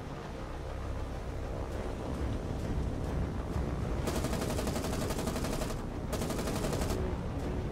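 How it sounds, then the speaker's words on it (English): Anti-aircraft gunfire aboard a warship in the naval video game War on the Sea, a rapid stuttering rattle of bursts layered over constant roaring wind and engine noise. "The anti-aircraft fire can shoot down some fighters."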